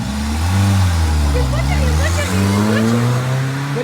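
A replica Renault Clio V6 engine revs loudly nearby, its pitch rising and falling through several throttle blips, with faint voices in the background.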